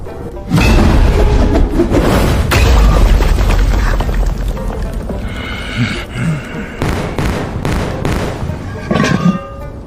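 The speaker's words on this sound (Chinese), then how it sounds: "不稳就会爆炸，炸一次便浪费一炉药材" An alchemy furnace explodes with a sudden heavy boom, followed by several seconds of roaring, crackling debris and sharp bursts that fade into intermittent clatter and scattered shouts.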